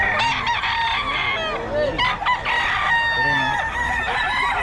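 Roosters crow repeatedly at a chicken market selling Golden Boy gamefowl, several loud calls overlapping one another amid busy market background noise.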